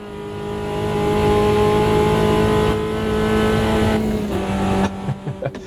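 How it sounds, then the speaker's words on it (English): Small touring cars, the 'tin tops' of the racing game Automobilista 2, rev hard with a loud, close, buzzy engine drone that holds high, then drops off into a few sharp throttle blips. "Just revving the nuts off these little things is brilliant"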